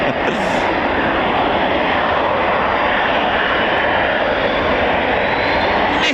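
A Eurofighter Typhoon FGR4 jet engine roars loud and steady at RAF Coningsby, a dense broadband blast that holds unbroken throughout with no gaps.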